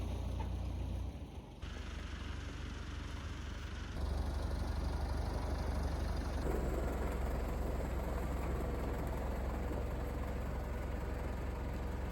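A heavy tractor engine idles and rumbles continuously during road building, steady and fairly close, with no talking.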